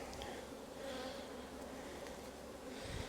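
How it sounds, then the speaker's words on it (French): Dense, steady buzzing of many honeybees swarming over a brood frame in an open hive, close and continuous with no talking. "quand on voit autant d'abeilles sur un cadre"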